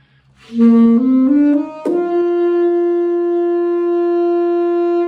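A saxophone slides up through a few short pitches, then settles on one long sustained note held steadily to the end.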